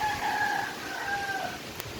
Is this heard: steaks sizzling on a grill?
no